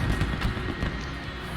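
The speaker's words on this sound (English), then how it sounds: "Fireworks to show the start of these games" Fireworks at the stadium opening ceremony in the London 2012 Olympic video game, a brief dense burst of booms and crackles over a rumbling crowd-like wash.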